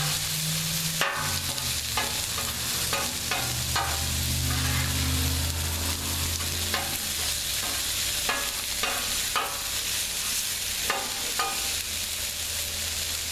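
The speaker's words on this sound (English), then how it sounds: "Go ahead and mix these around too." A spatula stirs and scrapes burgers frying on a Blackstone griddle, with steady sizzling throughout, intermittent metallic scraping strokes, and a low hum underneath; no talking.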